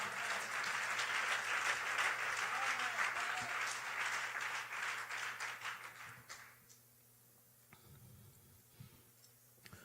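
A church congregation bursts into loud, sustained applause and cheering for the Lord, filling the first six seconds before fading abruptly to a quieter room with a few scattered claps.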